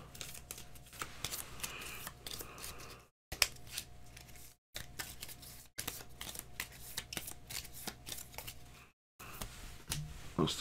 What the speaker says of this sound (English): So I shall shuffle the B cards.